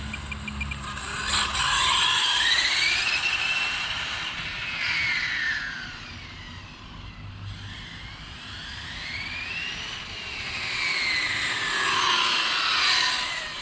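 Exceed Mad Drift 1/8 scale RC car with a new motor setup whining as it takes off, high electric motor pitch sweeping up and down in repeated passes, moderately loud and alone.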